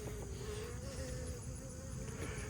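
Honey bees buzzing in a hive's top super holding only about thirty bees, a soft steady drone close to the ears with no talking.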